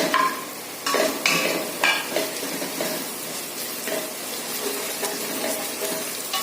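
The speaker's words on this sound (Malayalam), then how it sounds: "നമുക്ക് ഇഞ്ചിയും വെളുത്തുള്ളിയും പേസ്റ്റ് ഇതിലോട്ട് ഇട്ട് കൊടുക്കും." Ginger-garlic paste frying with onions in a pot for mutton biryani: a steady close sizzle with stirring scrapes and a few sharper clatters of the spoon early on, no voices.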